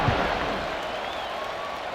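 Simulated stadium crowd in College Football 26 at a Southern Illinois vs Purdue kickoff, a steady loud broadband roar of cheering that holds throughout with a thump near the start.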